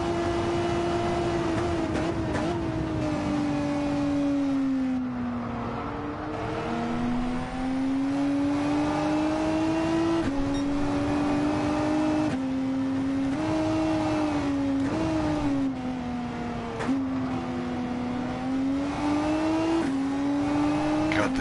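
A race car engine in a racing video game drones loud and steady throughout, its pitch climbing and dipping repeatedly as the car revs, shifts and takes corners, with no talk over it.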